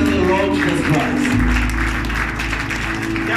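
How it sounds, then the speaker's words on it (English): A church congregation claps hands together in a dense, continuous burst of applause, with voices and other sounds mixed underneath throughout. "Let us clap hands to the Lord Jesus Christ."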